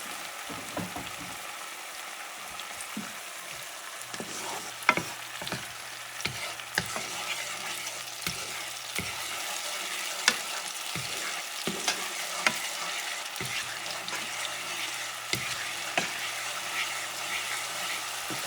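Spices, including smoked paprika, coriander, cumin and oregano, fry in a pan with a steady close sizzle, while a utensil stirs with repeated scraping strokes and light taps against the pan.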